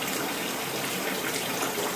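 A kitchen tap gushes steadily into water used for cooling fresh mozzarella balls, a close, continuous hiss of running water that cuts off abruptly at the very end.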